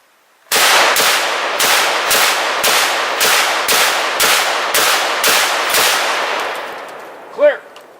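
Eleven rapid, loud, evenly spaced shots from an SKS rifle firing 7.62x39 rounds through a full magazine, each sharp crack trailing into echo, followed by a short voice at the end.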